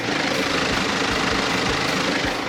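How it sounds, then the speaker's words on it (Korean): A BMW Gran Coupe diesel engine idles steadily with the hood open, a continuous close, moderately loud rumble with a faint ticking clatter and no voices. "디젤 엔진이라 어느 정도 소음은 있지만"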